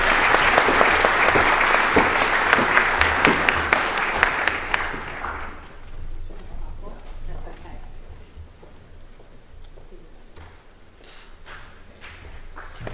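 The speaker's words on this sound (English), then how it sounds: "a big round of applause to all of our schools" Audience applause at a school awards ceremony, with loud, dense clapping for about five seconds that then fades into quieter scattered claps and room noise.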